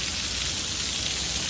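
Steady rain comes down in Morbi near a truck being loaded with tiles, an unbroken close hiss of falling drops at an even level, without any talking.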